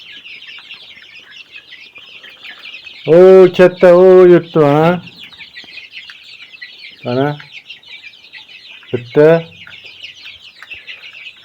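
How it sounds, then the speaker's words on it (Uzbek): Chicks peep continuously in a high, busy chorus close by while someone talks in short bursts over them. "hozir chiqib ketadigan jo'jalarni ko'rsataman"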